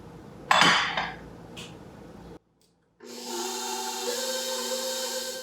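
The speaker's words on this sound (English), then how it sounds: "I'm gonna scrape down the bowl one time." A spatula scrapes around a mixing bowl of fluffy frosting with a short, loud scraping clatter. A brief silence follows, then a stand mixer starts up and whirs steadily.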